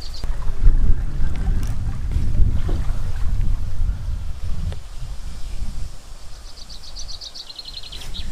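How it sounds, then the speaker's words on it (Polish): Strong wind buffets the microphone outdoors at a fishing lake, a steady roaring rumble with gusty surges throughout, while faint bird chirps show up near the end. "Ale wicher stary."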